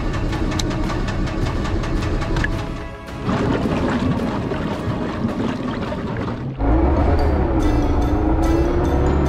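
Engine of a 1952 Bayliner Capri boat being started: close, continuous mechanical running with a brief dip near the three-second mark, then a sudden louder, steadier roar as it catches and runs on.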